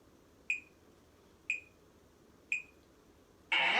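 Three short, bright electronic beeps sound exactly one second apart over a quiet background, followed by a sudden burst of hissing noise.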